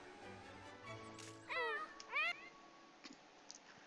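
A cat in The Sims 4 Pets video game gives two clear rising meows in quick succession, close and distinct over faint background game music and small clicks.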